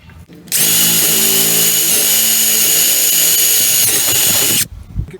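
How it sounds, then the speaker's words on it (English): A power drill bores a hole through a wooden board for a lazy Susan, a loud steady whine running about four seconds, then stopping abruptly with a short clatter. "I'm doing this with a punch, so now I know exactly where to drill."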